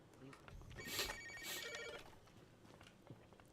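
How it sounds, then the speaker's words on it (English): A telephone bell ringing in two bright bursts, fairly faint and in the background, followed by quieter room noise. "The phone is ringing."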